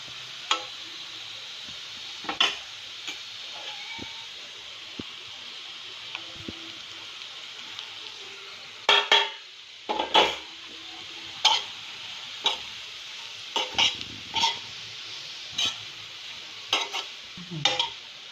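A spoon repeatedly scrapes and knocks against a pan as sliced bitter gourd fries with chili powder, a soft steady sizzle underneath and irregular clacks that cluster more densely in the second half.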